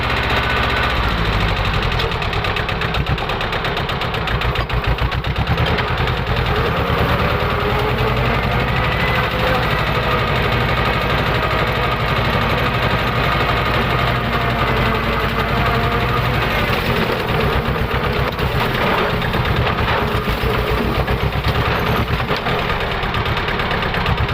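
An old single-axle 16 hp walking tractor mows grass in a small oil palm plantation, its engine chugging loudly and steadily up close with a knocking, vibrating drone and no break throughout.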